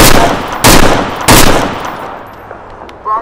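Video game gunfire in a street shootout. Three loud, close bursts of shots come about half a second apart, and the noisy wash after each decays slowly. Nobody talks.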